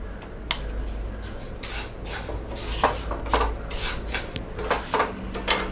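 Sesame seeds being lightly dry-roasted in a pan for pooranam kozhukattai filling, heard as a steady scraping and stirring of a utensil against the pan with soft rattling seeds, close up with no voices.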